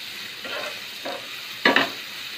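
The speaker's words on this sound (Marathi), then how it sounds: "सर्व भाजी व्यवस्थित परतून घेणार आहोत" Cauliflower and other vegetables for veg fried rice are tossed in a hot pan, giving a soft continuous sizzle with three brief stirring scrapes, the last one loudest, close and without talk.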